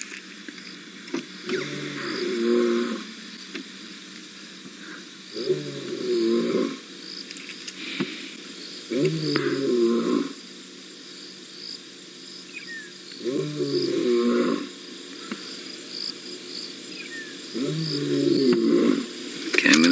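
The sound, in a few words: lion roaring nearby on safari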